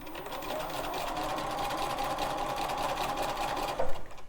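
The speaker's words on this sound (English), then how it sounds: "as soon as I'm done sewing this one, I'm not going to take it off the machine" A sewing machine stitches quilt strips chain-pieced one after another, running steadily and close by for about four seconds with a short bump near the end, and no talking.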